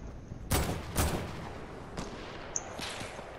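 Sniper gunfire in Fortnite: two sharp, loud shots about half a second apart, followed by several fainter, distant cracks and small pops, with no talking.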